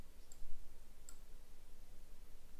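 Two faint, sharp computer mouse clicks spaced under a second apart, heard while working in 3DS Max with FumeFX, over a low steady room hum.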